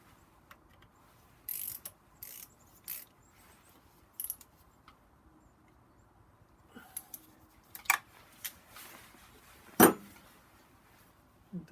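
A torque wrench tightens turbo bolts on a BMW 135i N54 engine, making sparse ratcheting clicks and metallic ticks, with a sharper click near the end, against a quiet background.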